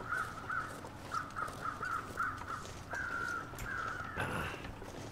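Crows in the survival game The Long Dark give a series of harsh, rhythmic caws from some distance over a windy outdoor ambience. A brief louder rustle comes near the end.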